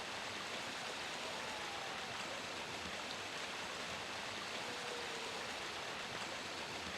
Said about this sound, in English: I can get beyond this waterfall and get whatever's there